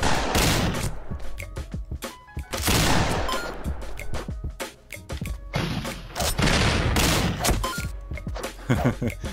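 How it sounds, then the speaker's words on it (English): Shotgun blasts in the western action game Kungfu Cowboy, loud repeated bursts of gunfire in rapid clusters with short gaps between volleys, and a voice speaking beneath them. "Maybe to get a tighter grouping on my shotgun blast."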